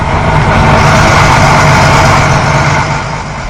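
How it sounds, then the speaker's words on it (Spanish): A heavy wartime tank engine rumbles loudly and steadily nearby, easing slightly quieter near the end. "y los carros de combate, lo que llamamos tanques."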